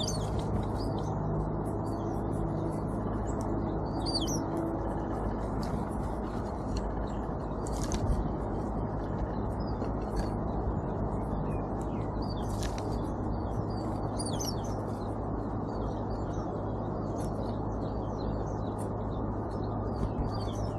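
Backyard birds at a winter feeder in Southern Ontario chirp and call in scattered, faint bursts over a steady low hum, with no talking.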